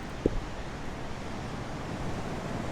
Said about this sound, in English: And look at this amazing beach here.